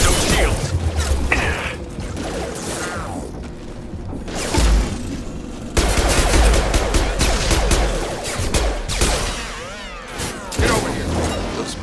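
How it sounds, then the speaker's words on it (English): Gunfire erupts in bursts during a Mass Effect 2 firefight against hostile mechs, loud rapid shots and mechanical clatter with voiced combat chatter between volleys. "Shoot them before they take out your shield."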